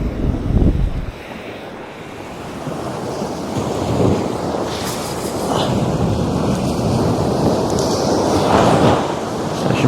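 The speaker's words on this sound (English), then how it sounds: "Some big waves going on down there." Big ocean waves crash and surge onto shore below a 4WD track during a fishing session, a steady broadband roar with swelling breaks, loud and close, no talking.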